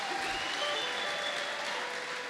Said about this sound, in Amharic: እባካችሁ ደግማችሁ ለጌታ ክብር አጨብጭቡልኝ